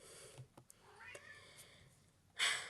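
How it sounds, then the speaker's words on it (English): A house cat meows faintly once in a quiet room, followed by a brief louder rustle. "My cat agrees, if you can hear her."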